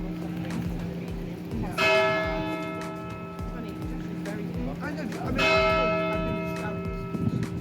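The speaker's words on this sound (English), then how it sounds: "the bells were ringing in this church" Church bells ring out in two strong, resonant strikes a few seconds apart, each tone lingering and fading while faint voices and street noise continue beneath.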